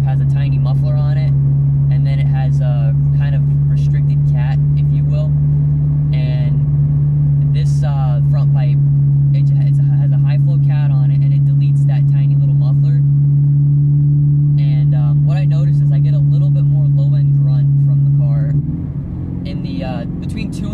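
A Subaru BRZ fitted with a Berk Technology exhaust and front pipe holds a steady, loud low engine drone while cruising, heard from inside the car as someone talks over it, and the tone shifts near the end.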